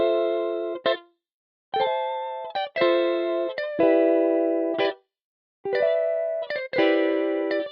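Layered VST guitar parts triggered by MIDI, with a small added top-line melody, play a busy run of chords, strummed bright and close with crisp starts and stops and only short pauses between phrases.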